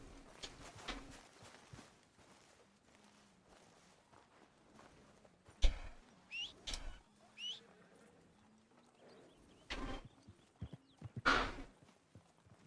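Horse in Red Dead Redemption 2 walking, soft hoof clip-clops and scattered thuds heard faintly against a quiet background, with a few louder knocks and rustles.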